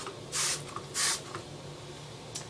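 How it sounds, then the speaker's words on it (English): Two quick bursts of Clean and Safe cleaner from a spray bottle hiss onto a food mat, close and sharp about half a second apart, followed by a fainter third spritz. "So I'm just going to take a little bit of the Clean and Safe and squirt that on."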